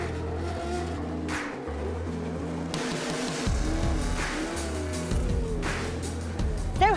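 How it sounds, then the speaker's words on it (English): Historic Formula One race cars at Silverstone Classic roar past, with dense engine drone, shifting revs and passing surges, loud and continuous throughout with no pause. "have a historic F1 race, of course, and we've got an incredible array of machines out here"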